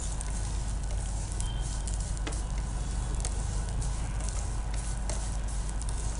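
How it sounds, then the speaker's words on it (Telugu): Vermicelli (semiya) frying in ghee in a pan gives a steady, close sizzle with a continuous crackling hiss and scattered small pops, with no talk over it. "చక్కగా సేమియా చూసారు కదా ఎలా ఫ్రై అయిందో, అలా ఫ్రై చేసుకోవాలి"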